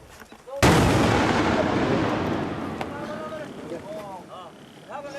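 A 51mm mortar round goes off on a CRPF training range: one sudden loud blast that rolls into a long, slowly fading rumble lasting several seconds, with voices calling out faintly beneath the tail.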